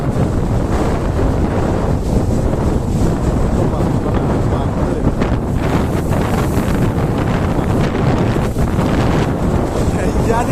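Strong storm wind on the Kerala coast during rain, a loud, unbroken roar buffeting the microphone with a continuous rushing gust and no let-up, close and dominant throughout.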